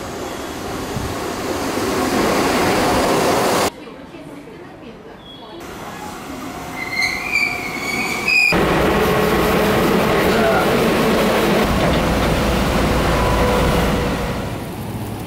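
Continuous rumbling and roaring of a train in motion, a steady broadband rush with a quieter stretch and faint squeals, then louder running noise.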